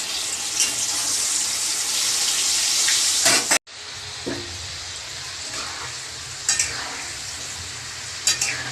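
Food sizzles and crackles steadily in hot oil, with occasional sharp pops and a brief cut partway through.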